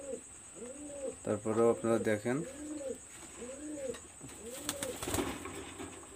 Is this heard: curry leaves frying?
no